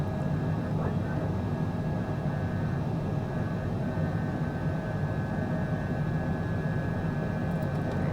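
A CJ4 business jet, flown with a mod in Flight Simulator 2020, climbs after takeoff with a constant engine roar and a faint high whine, unchanging and steady throughout.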